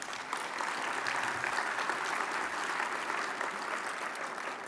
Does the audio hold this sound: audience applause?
yes